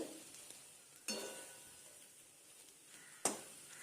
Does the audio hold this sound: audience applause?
no